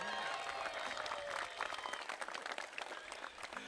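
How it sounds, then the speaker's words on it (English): Crowd applause for basketball player Vince Carter at a sports partnership announcement event in Toronto, a fairly distant wash of clapping and some cheering that thins toward the end. "would you give a big round of applause to Vince Carter?"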